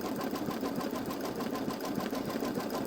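A Baby Lock Solaris embroidery machine stitches out an appliqué bow on a sweatshirt, giving a rapid, steady needle chatter and motor whir that runs continuously and close by with no talking.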